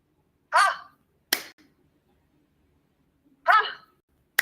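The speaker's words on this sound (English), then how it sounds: "When I say ha, you clap all together." A group claps all together on a cue in a quiet room. A single short vocal shout comes first, then one sharp, unified clap; the pattern repeats a few seconds later.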